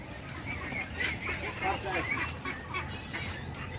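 Ducks on a duck farm call with a busy, overlapping mix of nasal quacks and honks in the background, steady and moderately loud, and a voice is mixed in.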